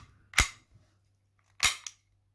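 Two sharp pops from a Sig P365 CO2 air pistol fired indoors, spaced about a second apart, each a crisp close snap with a short decay over a low steady hum.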